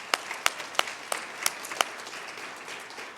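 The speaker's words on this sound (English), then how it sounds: "so let's give them a round of applause." Applause from an audience at an anniversary welcome event, dense clapping with several sharp, close individual claps standing out, steady throughout.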